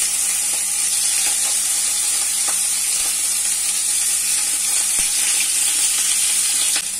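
Fish pieces fry in a pan after ginger slices were sautéed, giving a steady, close sizzling hiss that stays even throughout, with faint stirring clicks and no talk.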